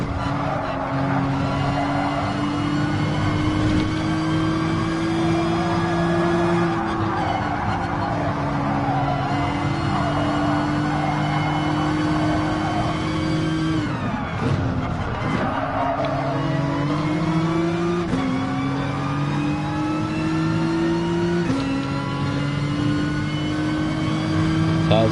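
Honda NSX and Audi TT GT race cars in the GT Sport racing game, engines droning steadily with rising and falling pitch as they shift gears, tires squealing at moments, with a commentator talking over the action.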